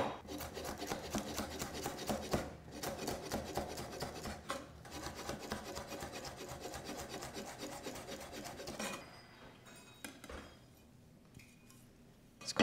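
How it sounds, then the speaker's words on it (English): Knife rasping and scraping against a wooden chopping board while chilies are chopped and their seeds scraped out, a steady busy texture of close cuts for about nine seconds before it drops to quiet scattered scrapes. "that's all my chopping"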